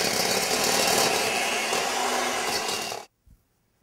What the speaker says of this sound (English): you want to beat this until it's well combined, until it turns white